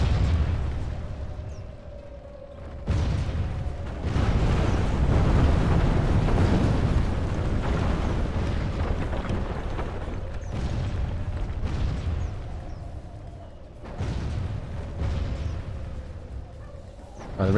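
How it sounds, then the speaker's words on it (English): Catapult shots slam home during a Medieval 2: Total War siege battle, a run of deep, rumbling booms rolling one after another under steady low battlefield din, with no pauses between impacts. "Come on, catapults. Help me out here."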